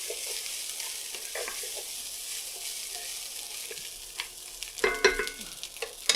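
Spam breakfast fried rice stirred and broken up in a hot pan, a soft continuous sizzle with scraping spatula strokes that grow sharper and more frequent toward the end, no voices.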